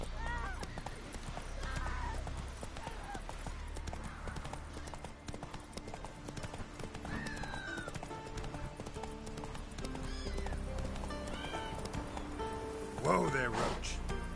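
Roach, a horse in The Witcher 3, trots with steady hoof clops that run under a man's speech and game music, with a brief whinny near the end.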